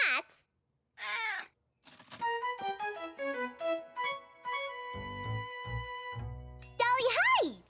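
Cartoon cat meows, several high gliding calls at the start and a louder one near the end, set against light tinkling music with a voice in between.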